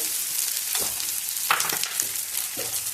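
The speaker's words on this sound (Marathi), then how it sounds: "थोडं थोडं तूप टाकून आपल्याला डिंक तळून घ्यायचं आहे" Edible gum frying in hot ghee, a steady close sizzle and crackle with a few brief louder bursts, with no talking.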